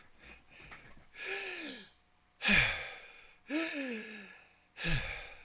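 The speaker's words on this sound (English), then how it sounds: "I'll show you breathing up high." Shallow, high-chest breathing demonstrated by a person: four loud, sighing breaths in a steady rhythm, each a gusty inhale or exhale lasting about half a second to a second, close and alone with no talking.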